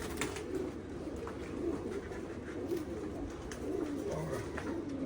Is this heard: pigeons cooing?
yes